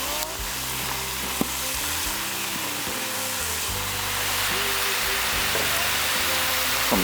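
Cajun deer sausage dropped into a hot pot beside cabbage, crackling and sizzling steadily and loudly throughout, with faint scraping of stirring.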